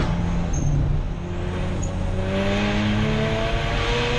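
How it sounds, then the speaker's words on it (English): Several Mazda RX8 race cars pass through a chicane at Donington circuit, loud engines droning and rising in pitch as they accelerate past in close succession. "five cars coming through the Roberts chicane, all over the road, using every inch of the tarmac"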